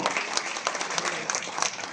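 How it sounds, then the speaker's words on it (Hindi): An audience at a government ceremony where appointment letters are handed to dentists and medical officers claps in a dense, steady round of applause from a crowded hall. "एक बार तालियां जोरदार हो"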